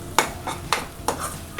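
Makhana curry ingredients get stirred in a pan, a spatula scraping and tapping the metal in quick, evenly spaced strokes over a faint sizzle, close and fairly quiet.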